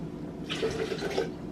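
Cold water pours briefly into a container at close range for oatmeal, a soft gurgling splash that swells and fades within a second.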